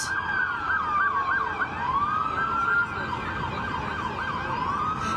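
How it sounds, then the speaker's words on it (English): Police patrol cars pass with sirens near protests in downtown Los Angeles, loud continuous wailing sirens sweeping up and down and overlapping with one another, with faint traffic beneath. "here come the patrol cars"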